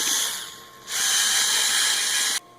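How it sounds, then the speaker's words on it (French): A 3D-printed speaker part is filed by hand, a harsh bright rasping noise in two close strokes, the second longer and louder, ending abruptly. "Faut limer un petit peu."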